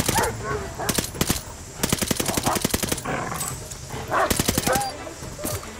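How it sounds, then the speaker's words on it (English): Dogs bark in the Call of Duty: Vanguard game amid rapid bursts of machine-gun fire, while players talk over the chaotic action. "Dogs, dogs."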